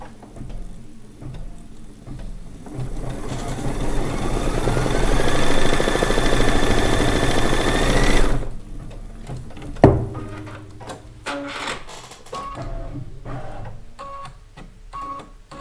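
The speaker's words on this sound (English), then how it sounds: "it is just sewing down placement stitch so I know where to place my fabric" A sewing machine runs a placement stitch on quilt fabric, a steady close mechanical whir that holds for about eight seconds and then stops, followed by scattered clicks and knocks.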